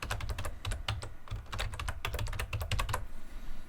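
Rapid, uneven keystrokes clatter on a computer keyboard, a dense run of crisp clicks with short pauses, close and alone without any talking.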